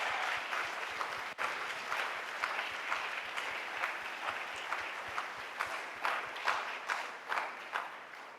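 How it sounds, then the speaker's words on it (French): A church congregation claps together in steady, sustained applause for the Lord, a dense wash of many hands at a moderate distance with some rhythmic emphasis toward the end. "Ensemble, acclamons le Seigneur"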